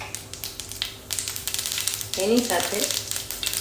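Mustard seeds crackle and sizzle in hot oil in a pan, a steady close frying hiss with sharp pops, while a person talks over it.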